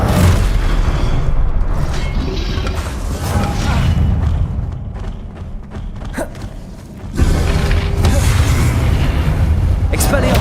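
Confringo blasting curses go off in Hogwarts Legacy, heavy booming bursts repeating through the fight amid steady battle noise, briefly dipping before a fresh loud impact near the end.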